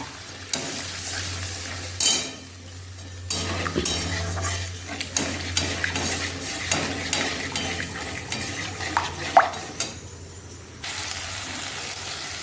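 Whisked curd is stirred into spiced onion masala frying in a pan for a pointed gourd and curry leaf curry, with a steady sizzle, scraping of a spoon against the pan, and clinks as a bowl is handled and rinsed.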